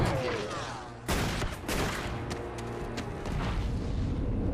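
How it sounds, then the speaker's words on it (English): Gunfire in the video game Alan Wake: a dense burst of overlapping shots and impacts breaks out about a second in and keeps rattling loudly over a rumbling, busy game soundscape. "Dodging bullets."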